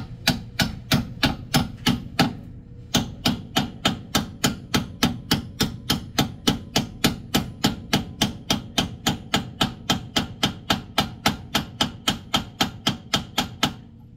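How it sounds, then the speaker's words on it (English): A size 24 socket lightly tapped with a hammer to seat a ball joint spherical bearing, a long steady series of sharp metallic knocks at about three per second, close and clear, with a brief pause near the start. "Take your size 24 socket, just lightly tap it in there"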